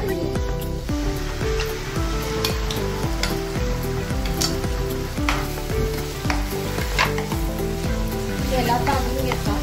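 Flower peas roast in hot oil with masala, giving a loud, continuous sizzle with stirring scrapes, partly masked by rhythmic music playing over it.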